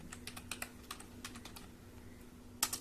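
Keys click irregularly on a computer keyboard as a command is typed at a Windows recovery prompt, quiet and close, ending with a sharper key press.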